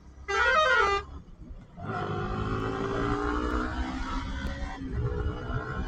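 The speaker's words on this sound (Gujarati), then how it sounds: "પાછળ કટર વાળા ખાલી ખોટા હોરન મારે" A single loud horn honk near the start from a vehicle behind a motorbike on a night highway ride near Rajkot, followed by the steady drone of a passing motor and traffic.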